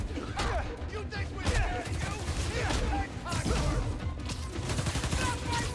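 Gunfire in the video game Spider-Man: Miles Morales, dense bursts of shots crackling and thudding continuously with clattering impacts and game commotion, loud and busy throughout.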